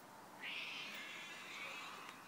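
A pet cat named Ty gives a single drawn-out meow, close and fairly soft, rising and then trailing off over about two seconds against quiet room tone.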